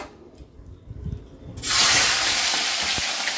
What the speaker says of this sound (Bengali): এখানে সর্ষে কারি পাতা ফোড়ন দিয়েছি